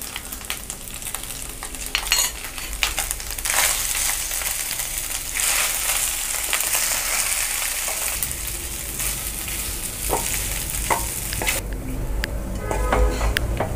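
A spoon scrapes and stirs ground sesame powder into rice in a pan, with a steady low sizzle of sesame oil underneath and intermittent clinks of the utensil against the pan, no one speaking.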